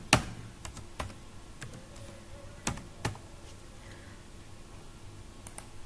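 Typing on a computer keyboard while setting up a software build; scattered, irregular key clicks with gaps between them, close and fairly quiet against a faint background hum.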